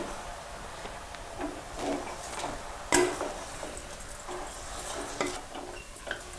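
Turmeric being stirred into pork frying in a pan on a high flame, with a soft steady sizzle under scattered scrapes and clinks of a spoon against the pan, and one sharper knock partway through.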